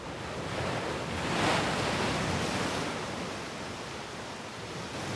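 Surf rolls in on the rocky Hong Kong coastline as a broad, continuous wash of noise that swells slightly near the middle and then eases, heard from a little distance with no voices.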